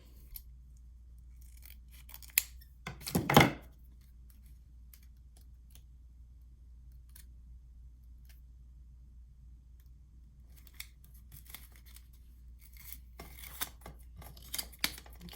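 Scissors make a single short cut through paper on a junk journal page, a crisp snipping burst close by, with the rest quiet apart from faint rustling of paper.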